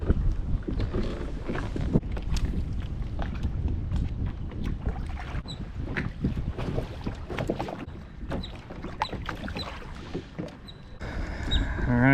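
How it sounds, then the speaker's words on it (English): Gusty wind rises across a lake around someone in a kayak, a continuous rumbling buffet of wind against the microphone with small water and boat knocks scattered through it. "that wind's starting to pick up across the lake"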